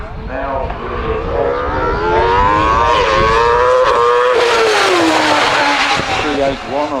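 Tony Gould's GR55 race car accelerates hard at the Harewood hillclimb, its engine note climbing through gears, loud and close as it passes, with a commentator talking over the roar.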